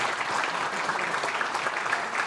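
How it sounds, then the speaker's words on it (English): Crowd applause for Father Richard Fox at an Ancient Order of Hibernians Man of the Year gathering, a dense, steady wash of clapping that holds evenly from start to finish. "Round of applause for Father Fox."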